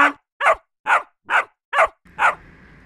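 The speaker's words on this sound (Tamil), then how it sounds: "நாய் வேற பயங்கரமா குலைக்குது" A dog barks loudly six times in a quick, evenly spaced series close by, the last bark trailing into a low background hum.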